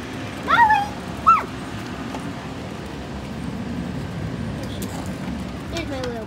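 Dogs let out a couple of high, excited whimpering yips near the start, followed by softer whines over steady background noise and movement.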